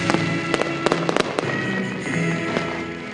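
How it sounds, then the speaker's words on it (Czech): A New Year fireworks display over Hradec Králové, with sharp bangs and crackling bursts popping repeatedly over a dense, continuous roar of distant explosions. "Zvonění předznamenalo vyvrcholení celé novoroční akce a odpálení ohňostroje, na který většina Hradečanů čekala."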